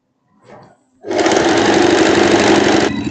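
A sewing machine stitches the armhole seam of a long boho dress in a loud, rapid, even whir that starts after a brief murmur and runs steadily for about two seconds before easing slightly.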